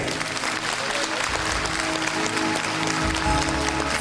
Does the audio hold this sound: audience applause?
yes